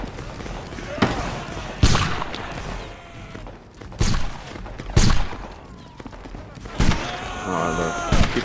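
Musket volleys crack out in a Napoleonic skirmish video game, several loud sharp bursts at irregular intervals, some single shots and some ragged multi-gun volleys, with voice chat talking over the gaps between them.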